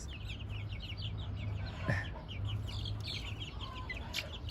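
Plymouth Rock rooster with hens, mothers among chicks, giving steady soft clucks and chirpy calls over a constant low background hum, fairly faint and close.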